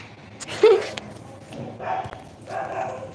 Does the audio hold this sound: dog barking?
yes